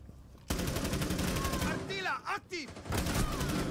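Rapid bursts of gunfire from the video game Rainbow Six Siege, loud and dense for most of the stretch, with a short lull near the end and game noise mixed in before the shots resume.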